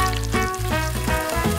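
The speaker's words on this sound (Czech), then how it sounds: "A osmažím." Batter of flour, milk and egg frying in a pan, a steady loud sizzle with faint clinks on top, close up and without talk.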